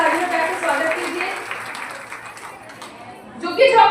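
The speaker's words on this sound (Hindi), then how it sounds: "उनका भी ताली बजा के स्वागत कीजिए।" Audience applause welcoming a guest at a women's felicitation ceremony, steady moderate clapping with a voice speaking over it and a louder swell near the end.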